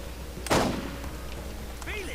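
A single sniper rifle shot in the video game Borderlands cracks once and then fades, with game ambience and a faint voice-like tone toward the end.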